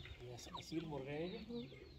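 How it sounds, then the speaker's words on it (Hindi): Aseel fighting roosters cluck softly and faintly nearby, a few short calls mingled with quiet background voices. "असील मुर्गे हैं"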